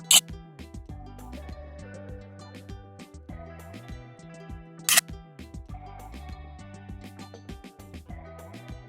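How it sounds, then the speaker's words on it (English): Two sharp, brief camera shutter clicks, one at the very start and another about five seconds later, stand out over steady background music. "and then click the shutter button"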